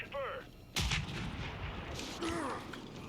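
Sniper gunfire in Gears 5 horde mode on the Village map at master difficulty: a loud, booming shot, then a second, softer report a moment later over a low, rumbling battle backdrop.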